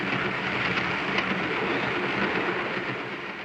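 Train wheels pound steadily on the soundtrack of a 1935 Hitchcock thriller, a dense, loud rumbling roar with a faint rhythmic clatter running throughout, easing slightly toward the end.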